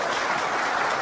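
A large crowd breaks into dense, continuous applause, a loud, evenly packed wash of many hands clapping together with no voices standing out.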